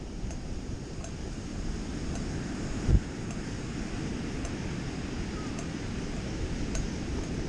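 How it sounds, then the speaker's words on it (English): Steady wind and surf noise on a wide open beach, a continuous broadband rush with one brief bump partway through, no voices. "Beach is nice and wide, it looks like."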